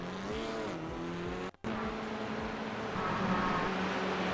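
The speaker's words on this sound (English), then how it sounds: "I hear a quick car come in" A fast race car in the iRacing sim, a touring car at Virginia International Raceway, roars in with a rising engine note, steady and fairly close, interrupted by a brief dropout before the engine drone resumes.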